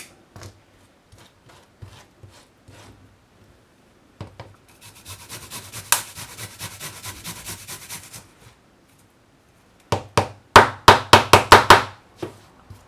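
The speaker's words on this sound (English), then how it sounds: "ginger and garlic, I'm just going to shred these on a small grater" Ginger and garlic are shredded on a small grater in a home kitchen, making short rasping scrapes. They start in sparse strokes, turn into a steady run of quick rhythmic rubs, and end in a final burst of loud, fast strokes close to the listener.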